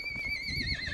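A horse, likely one of the young mares for sale at a village livestock bazaar in Baidibek Bi, lets out a loud, wavering whinny close by, holding one drawn-out call against low crowd murmur.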